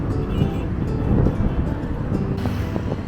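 Wind and water on the Nile River, a blustery rumble buffeting the microphone over a wash of moving water, continuous with slight surges.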